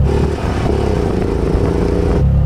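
A three-wheeler's engine revs hard and steady after a missed gear at a drag race, a loud, close, droning roar held for a couple of seconds before it abruptly drops off, with no voices over it.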